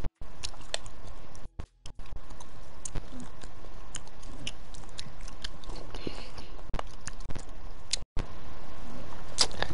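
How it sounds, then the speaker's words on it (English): A person chews food close up, with a steady run of crunchy bites and wet mastication noises over about ten seconds, broken by a few short silent gaps. "I need to stop chewing."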